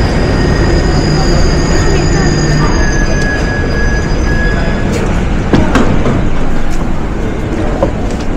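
A fast train runs on rails with loud, steady rumble and faint high wheel squeal throughout, a few sharp knocks in the second half.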